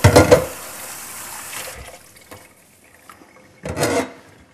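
Running water gushes briefly as a plate is rinsed, stops into near quiet, then splashes again in a second short burst.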